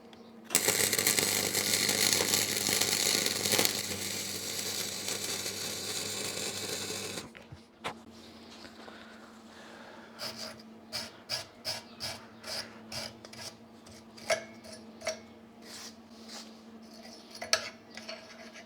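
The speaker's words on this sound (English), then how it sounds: "let's weld her up." Welding on a boat's metal boards gives a loud, steady crackling buzz for about seven seconds, then stops, followed by quieter scraping, clicks and clanks of nearby work.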